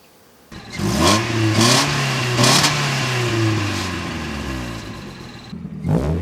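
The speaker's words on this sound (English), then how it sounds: "let's check and see how the stock exhaust sound" A stock-exhaust Mazda Miata engine revs up and down in several close, loud swells, the note climbing and falling repeatedly before settling back toward idle.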